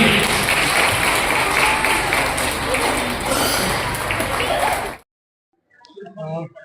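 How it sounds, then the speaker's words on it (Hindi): An audience at an Arya Samaj temple in Uttam Nagar, celebrating Swami Dayanand Saraswati's birth anniversary, breaks into loud, dense applause that stops abruptly, followed by a moment of silence and then a voice speaking. "सभी एक बार तालियों से इनका अभिनंदन करेंगे।"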